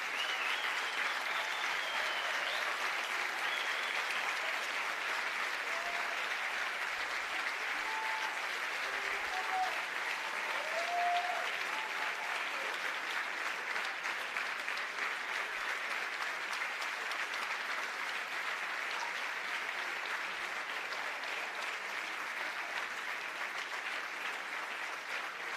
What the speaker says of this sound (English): And give your parents a big round of applause.